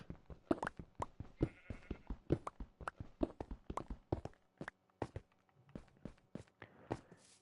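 Sheep bleat in Minecraft among a fast run of clicky, rhythmic footstep-like taps, with the bleats fairly faint and close and no one talking.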